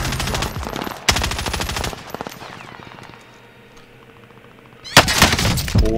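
Automatic gunfire in Call of Duty: loud, close bursts of rapid machine-gun fire at the start and end, with a quieter gap of distant game noise in between.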